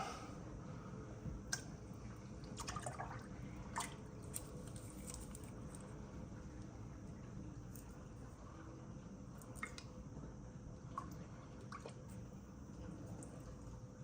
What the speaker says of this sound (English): actually pour exactly half this bottle into the reservoir